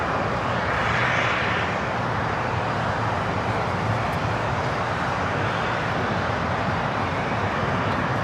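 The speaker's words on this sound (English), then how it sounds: "This Citation 10 coming in from South Bend" Cessna Citation X business jet arriving at LAX from South Bend, a steady broadband roar of jet engine noise holding at an even loudness throughout, with no talk over it.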